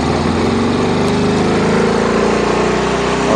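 DuroMax XP9000iH 9kW dual fuel inverter generator running on pump gas at its 240-volt 7,200-watt output, a loud, steady engine drone that holds unbroken throughout.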